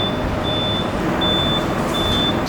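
A forklift sounds its reversing alarm in a loud steady tone, beeping in long evenly spaced pulses over a constant engine rumble.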